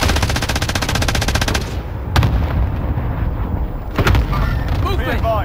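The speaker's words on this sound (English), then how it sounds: "Allied cluster strike inbound." Rapid cluster-strike explosions in Call of Duty Warzone Rebirth, a dense rolling barrage of booms and crackling gunfire, loud and continuous, with heavy bursts and scattered pops as voices talk over the top.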